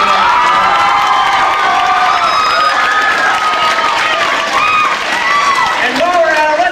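A party crowd at a birthday gathering in Vegas cheers, whoops and claps loudly throughout, a dense wall of excited shouting with voices rising over the applause.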